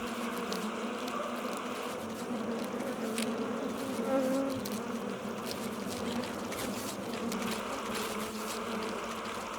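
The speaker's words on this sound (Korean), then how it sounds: "펄프 덩어리를 턱으로 이겨 종이벽을 쌓아 올리는 말벌." A wasp buzzes steadily and close up while chewing wood pulp with its jaws to build the paper wall of its nest. The drone is continuous and wavering throughout, with no talk.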